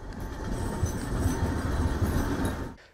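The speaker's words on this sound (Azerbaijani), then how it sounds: "Digər tərəfdən də yolda qatarlar aramla hərəkət edir." A train rolls slowly along a railway line through a town. A steady low rumble with faint wheel clatter and squeal sits close for nearly three seconds, then fades out abruptly.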